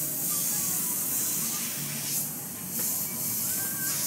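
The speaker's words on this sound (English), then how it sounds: "Real subtle flicks with the airbrush, little dagger strokes here and there." An airbrush spraying paint in fine script-lettering flicks and short dagger strokes, giving a steady close hiss with slight surges and brief sharper bursts, no talking.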